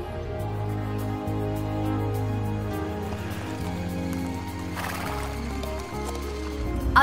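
A cartoon horse whinnies over a steady animated-series music bed, with faint hoof-like clip-clop in the mix; the neigh sits mid-level under the score throughout.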